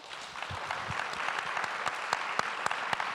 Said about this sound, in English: think we should give them another round of applause